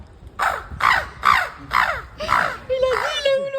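A crow caws five times in an even rhythm, loud and close, followed by a longer harsh call, with faint background noise beneath.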